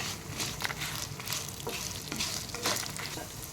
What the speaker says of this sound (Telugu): కొన్ని వట్టి మిరపకాయలు వేసుకోవాలి దాంట్లోనే కొంచెం కరివేపాకు వేసుకోవాలి ఇవి దూరగా ఎంపుకోవాలి మంచిగా